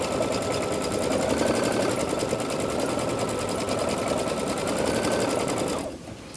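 A Brother Luminaire embroidery machine stitching out sashing stitches, with a loud, steady, rapid mechanical hum and needle clatter running unbroken up close before stopping abruptly near the end.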